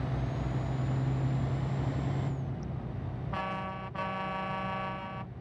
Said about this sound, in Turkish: Korna olayını da çok beğendim